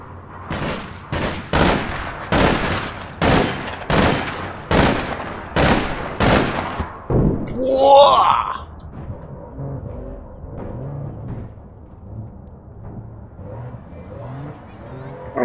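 Heavy gunfire in APB Reloaded, a rapid run of about ten loud, evenly spaced shots, then a whooshing sound and quieter rumbling game noise afterward.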